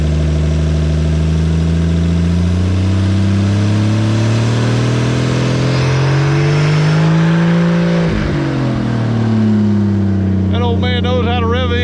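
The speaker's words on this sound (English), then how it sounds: "Knows how to rev an engine, don't he?" A 1959 Edsel Ranger engine revs loud and close, pitch climbing and falling through several long surges before settling, with voices faintly audible over it near the end.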